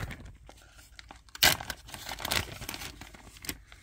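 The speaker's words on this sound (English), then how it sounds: "You just open the bag." A plastic Ziploc bag holding skate sharpener parts pulled open, giving quiet crinkling and rustling with one louder tearing crackle midway, close up with no voices.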